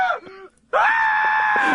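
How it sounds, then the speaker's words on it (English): A recorded Homer clip plays a loud, strained scream, then a short gap, followed by a long sustained wailing yell that holds steady to the end. "Screaming Homer rules."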